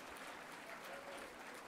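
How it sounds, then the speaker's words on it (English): Faint, brief applause from a conference audience, a soft, steady patter of clapping lasting under two seconds. "There's no need to clap."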